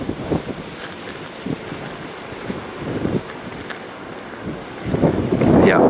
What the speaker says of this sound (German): weil der Wind hier so stark am Blasen ist